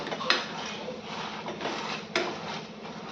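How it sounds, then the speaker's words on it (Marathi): A potato masher works pav bhaji masala of onion, tomato and capsicum in a pan, giving a steady wet, clattering mash with a few sharper metallic knocks against the pan, close up and with no talking. "स्मॅशरने एकदा मसाला त्याचा स्मॅश करून घेऊयात"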